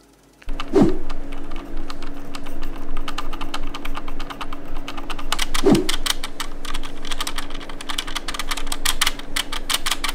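Steady typing on a Keychron K2 mechanical keyboard, dense rapid key clicks running throughout with two louder, heavier thunks like spacebar or stabilizer hits, close and with no voice.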